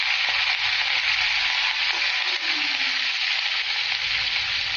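Curry leaves sizzling in hot oil for lemon rice, a loud, steady crackling hiss that fills the whole clip with no pauses.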